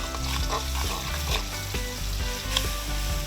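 Spices stir-fried in a pan as the base for a West Sumatran crab soup give a steady, close sizzle that runs throughout, with background music playing alongside.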